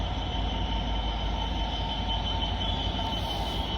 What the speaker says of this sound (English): this Freightliner 66 is working a service from Chelmsford to Wembley